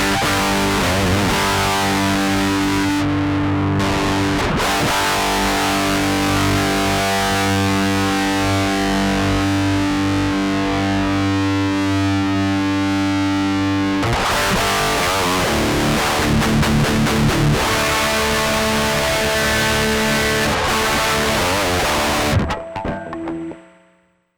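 An electric guitar played through a NUX MG-30 modeler with a distortion effect rings out in loud, sustained, heavily saturated chords, with a brief choppy break midway before the tone cuts off cleanly at the end.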